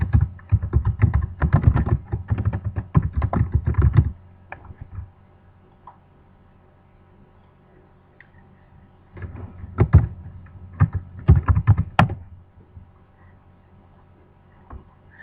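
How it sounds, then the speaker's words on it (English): Fingers typing an answer on a computer keyboard: bursts of quick, light clicking keystrokes, a dense flurry at first, then a quiet gap and a few more scattered runs of taps, close and fairly soft. "you have to type in the answer"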